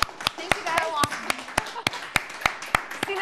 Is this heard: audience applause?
yes